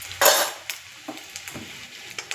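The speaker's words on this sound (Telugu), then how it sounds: "వేసి కొంచెం గోల్డెన్ బ్రౌన్లా ఫ్రై చేసుకోవాలి." Eggs frying in a pan for egg masala curry, a brief sizzling burst followed by quiet scraping and light clinks of a spatula stirring against the pan.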